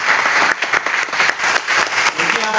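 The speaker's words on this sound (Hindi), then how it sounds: "तो ताली बजाइए जोर से इस बात के लिए" A crowd of students at a CIPET career guidance and motivation programme claps loudly and steadily, dense sustained applause filling the room with no break.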